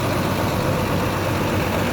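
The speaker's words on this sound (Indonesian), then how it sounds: "Masih sehat ya mesinnya," A Rosalia Indah executive-class coach idles at a busy Palembang bus depot before departure, its heavy diesel engine holding a steady, loud, continuous rumble close by.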